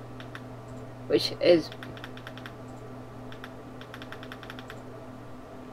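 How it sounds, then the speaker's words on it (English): Power and fire buttons on a Smok Nord 2 vape kit are clicked in quick, sharp bursts of small plastic clicks, heard close; a man's brief speech cuts in near the start over a faint steady hum. "press your power button there and your vape button 3 times"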